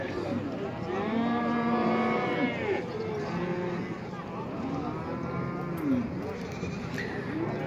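Cattle moo and sheep bleat over one another in a busy, noisy livestock market yard in Toktogul, Kyrgyzstan, with a steady crowd murmur underneath.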